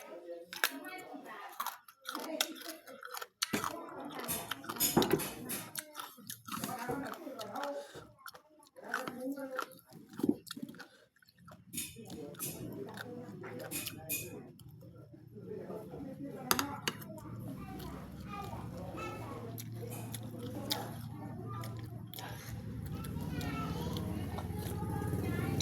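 Crispy eggplant is crunched and chewed near the microphone, with repeated bites and crackly mastication sounds during a Thai evening meal with fish larb, and people talking throughout.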